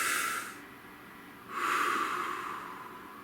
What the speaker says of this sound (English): Shall we take a nice deep breath?